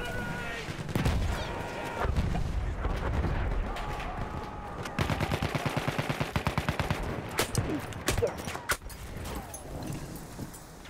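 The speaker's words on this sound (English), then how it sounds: "Where did those other shots come from?" Rapid bursts of gunfire from the Battlefield 1 video game, a fast run of rhythmic automatic shots in the middle followed by scattered single cracks, mixed with game sounds and occasional talk.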